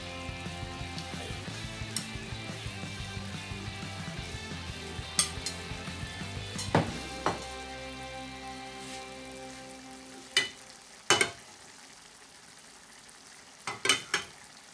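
Green peppers frying in olive oil in a pan for pisto manchego, a low steady sizzle broken by occasional clinks and scrapes of utensils against the pan, with no one talking.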